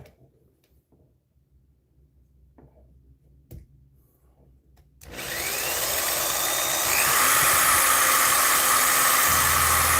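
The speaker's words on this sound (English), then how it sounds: "this is a drill bit that is made for metal, and it's barely going in there" A few faint clicks and taps, then a power drill with a metal bit starts boring into metal, running steadily and loudly, a high whine grinding on without pause.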